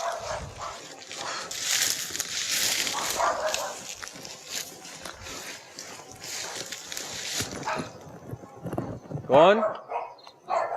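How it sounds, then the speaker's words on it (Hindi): Dogs bark and whimper in the background of an old house at night, under steady nearby talk, with a brief louder yelp near the end. "वो कुत्ते ज़्यादा बोलने शुरू हो गए हैं"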